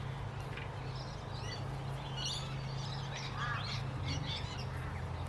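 Corellas squawk at a large wooden bird feeder, harsh calls scattered over a steady low hum, fairly faint and at some distance.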